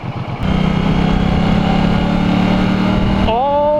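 Triumph Bonneville T120 motorcycle engine, a 2016 model, runs close and loud with a steady throbbing drone, then climbs sharply in pitch as the throttle opens near the end.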